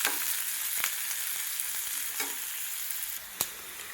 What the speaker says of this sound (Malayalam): സവാള ഒന്ന് ചെറുതായിട്ടൊന്ന് വഴറ്റിയെടുക്കാം.